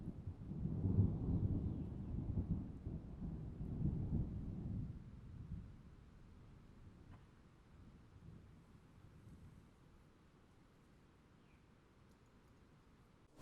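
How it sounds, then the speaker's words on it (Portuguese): A deep rolling rumble of thunder swells and fades over several seconds, leaving a quieter wash of rain and wind. "Aqui tá chovendo e repangalejando."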